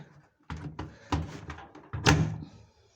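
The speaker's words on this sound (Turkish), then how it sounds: "Şimdi makinamızı da kapattık." A washing machine door being closed, heard as several bumps and rattles of handling ending in a firm close thunk, up close while carpets are washed in the machine.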